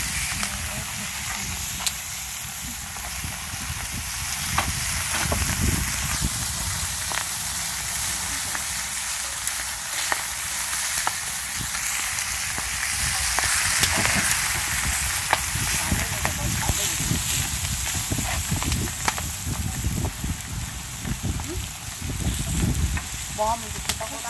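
Pork belly sizzles and crackles over a wood fire outdoors, a dense, continuous frying hiss with scattered pops, while voices talk faintly in the background.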